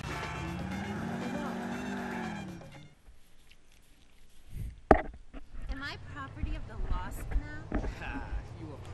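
A car in Grand Theft Auto IV drives with a steady engine drone that drops away, then returns with tire squeals and road noise while someone talks throughout.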